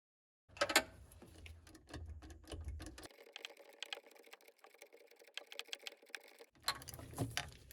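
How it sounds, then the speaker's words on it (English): A ratchet tightens the starter bolts on a Mercruiser 3.0L boat engine, giving quick, faint, close clicking runs that stop and start. "coming down below and tightening up the longer bolt"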